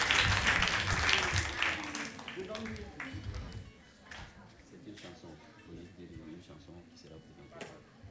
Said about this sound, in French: Encore plus d'acclamations,